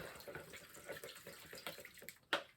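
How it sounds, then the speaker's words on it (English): A paint brush is rinsed in a water container after painting, producing faint, irregular sloshing and dribbling close by, ending with a sharper splash near the end. "clean off our brush."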